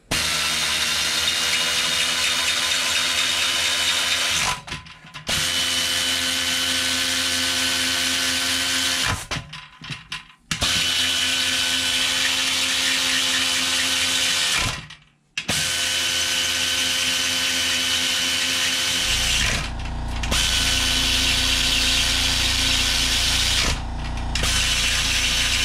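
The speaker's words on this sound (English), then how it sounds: "I'm just taking the bolts and from the head, and we're going to tighten those down" A quarter-inch air ratchet tightens lawnmower engine head bolts in loud sustained bursts, with a few short pauses between bolts and an air compressor kicking on near the end.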